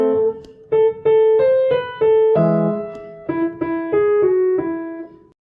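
Piano notes played with both hands, a melody over lower notes in a slow, even sequence of distinct struck tones, clear and close.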